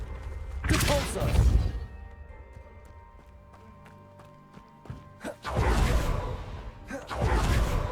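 Repulsor spell being cast in Hogwarts Legacy, a video game, with loud whooshing blasts: one forceful burst early, a quieter stretch of scattered knocks and hums, then two more powerful whooshes in quick succession toward the end.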